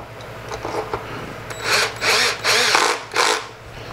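A power drill drives screws into a Technics 1200 turntable in several short whirring bursts of about half a second each, close and loud with brief pauses between.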